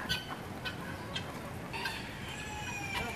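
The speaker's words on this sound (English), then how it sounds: "A baby chicken." Baby chicks peep with high, thin chirps at an animal refuge farm, repeated bursts rising over a busy background of clucking fowl and faint rooster sounds, fairly close and continuous.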